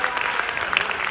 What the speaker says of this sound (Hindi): तालियां पड़ गई सुनिएगा।